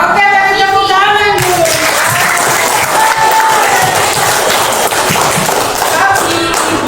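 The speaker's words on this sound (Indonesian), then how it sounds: "Oke, dari tepuk tangan" Students in a seventh-grade social studies class at a junior high school clap and cheer loudly together, a close, dense burst of claps and shouts with brief voices and thumps mixed in throughout.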